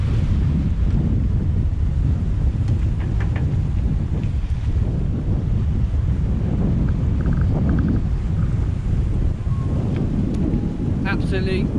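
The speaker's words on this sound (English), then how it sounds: "Imagine if we were sailing all day with this wind like that." Strong wind buffeting the microphone aboard a sailing boat among islands, a loud continuous roar with faint water wash and a few brief higher sounds near the end.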